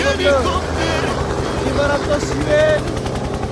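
Helicopter at Zhangjiajie Forest Park, China, its rotor a steady low chop throughout while people talk loudly nearby.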